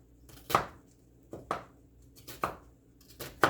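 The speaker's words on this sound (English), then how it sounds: "You're going to cut up your onion." A big knife chops a fresh onion on a board in four distinct, evenly spaced thuds, close and fairly quiet.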